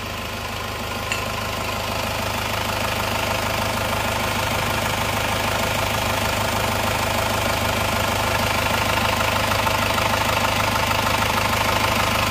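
Rebuilt car engine idling steadily after an overhaul, a loud, continuous, even mechanical hum and rumble held throughout with no voices.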